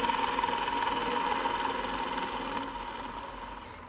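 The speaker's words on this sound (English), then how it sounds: "Let's go ahead and grab our bowl gouge, and we'll put just a little bit of a cove coming down to this." A bowl gouge cuts a rustic Christmas ornament spinning on a woodturning lathe, giving a steady, fairly quiet whirring scrape that holds evenly and fades slightly toward the end.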